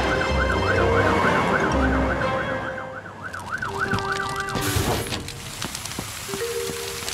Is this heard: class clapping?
no